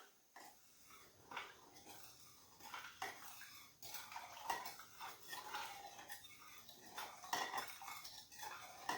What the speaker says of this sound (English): And you just stir all this together.